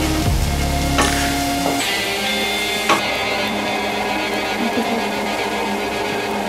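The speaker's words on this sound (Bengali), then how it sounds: "এতে এবার আমি ভেজে রাখা পটলগুলো দিয়ে দিলাম দিয়ে পটল আলু দুটো একসাথে ভালো করে কষিয়ে নিচ্ছি" Fried pointed gourd and potatoes are stirred together in a pan for a Bengali curry, with clattering stirring strokes early on and then an even sizzle.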